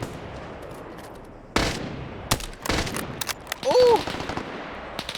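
MG42 machine gun fire in a video game, heard as a few short, sharp bursts over a noisy battlefield backdrop, with a brief exclaiming voice in the middle.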